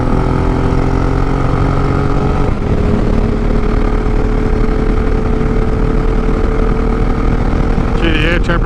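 A motorcycle engine runs steadily while being ridden on a dusty road, a continuous close droning hum with wind rush that holds an even level throughout.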